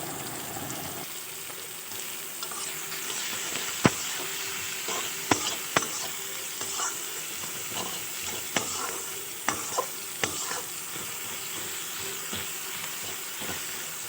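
Chopped tomatoes with salt hit softened onion and garlic in a pan for a light fish curry, sizzling and frying steadily throughout with occasional sharp scrapes and clinks of stirring.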